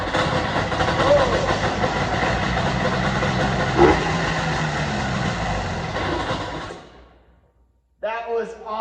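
A Ski Whiz snowmobile engine fires up and runs loudly and steadily for several seconds before cutting out, followed by a brief burst of talk.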